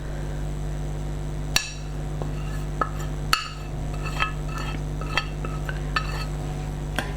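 A BBQ spice rub of blended powdered ingredients being mixed in a bowl, with scattered clinks and taps of a utensil against the bowl over a steady low hum.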